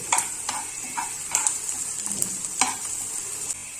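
Onions frying for a vendakka mappas crackle in a steady sizzle, with several sharp stirring scrapes at irregular intervals, loud and close, no speech.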